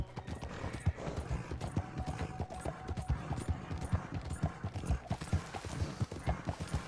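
Horse hooves clip-clop in a steady, even trotting rhythm in the video game Red Dead Redemption 2, close and continuous, with no one talking.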